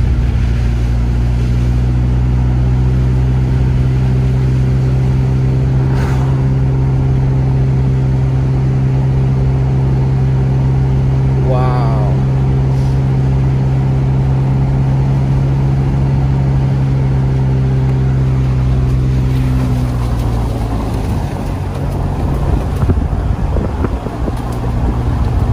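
A car drives over a packed, icy snow-covered mountain road near Onyx Summit in Big Bear, with a steady engine and road drone plus wind noise heard from inside, unbroken for the whole stretch.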